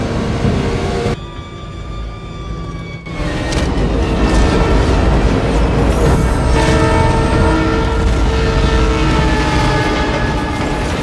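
An oncoming train in a Fast & Furious street-race scene roars loudly past, with a blaring horn, a rumbling clatter of wheels and the steady hum of engines throughout, close and sustained.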